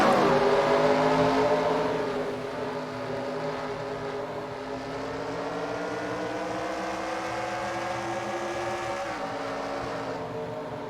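Modified race cars roaring around the Motordrome Speedway bullring during a heat race, a loud sustained engine drone that rises and fades slightly as the cars pass, with no talk.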